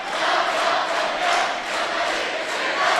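Loud, steady crowd cheering and shouting fills a high school gymnasium during a girls' state semifinal volleyball match, holding a constant roar throughout.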